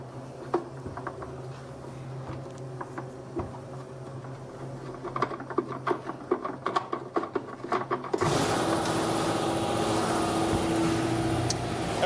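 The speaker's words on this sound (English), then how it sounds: "my air compressor just turned on" An air compressor kicks on partway through, a loud, steady broadband roar with a constant hum that fills the room after a stretch of quieter clattering work sounds in a workshop where a paper shredder is being adapted to grind plastic.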